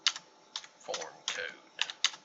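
A computer keyboard is tapped in short, irregular bursts of clicky keystrokes, close and fairly quiet, with a brief murmur of voice between taps.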